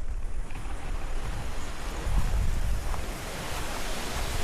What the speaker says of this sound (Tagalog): Ayun, naririnig ko na ang hangin.